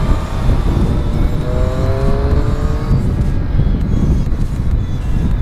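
Triumph Street Triple S motorcycle engine droning steadily on a road ride, loud and close with constant low rumble and a brief rising whine, wind noise over it, no talk.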